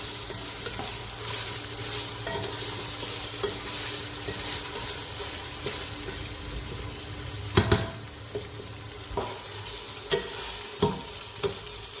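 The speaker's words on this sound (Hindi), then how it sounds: "ये देखें लहसुन अदरक भून चुका है, उसका भी कलर आ गया।" Garlic and ginger sizzle steadily as they fry in a pan for haleem, with stirring scrapes and a few sharp clinks of a utensil against the pan toward the end.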